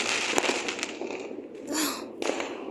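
Diwali firecrackers burst in a few sharp, crackling pops spread over a couple of seconds, heard at a distance beneath the background hum.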